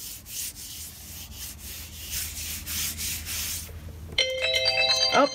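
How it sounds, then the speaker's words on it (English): A cell phone ringtone starts near the end as a bright electronic ring, after several seconds of rubbing and sanding sounds from journal collage crafting. "I'm sorry, that's my phone."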